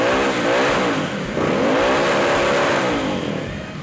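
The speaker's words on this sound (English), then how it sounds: "just in case that rear tyre had any life left in it, Adrian made sure it was truly smoked" A Triumph Thruxton café racer does a burnout, its engine held at high revs as the rear tyre smokes: a loud, close, sustained roar with rising and falling pitch sweeps, easing slightly at the end.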